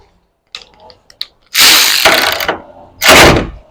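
Ratchet wrench with a 12 mm socket working on a 2001 Lexus GS 300 during a timing belt job, a few faint clicks followed by two loud, close bursts of rapid ratcheting separated by a short pause.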